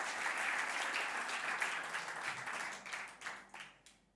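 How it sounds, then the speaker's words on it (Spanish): A church congregation applauds with steady, dense clapping that gradually thins out into scattered claps toward the end, with no talk over it. "Alguien que le dé un lindo aplauso al Señor por eso."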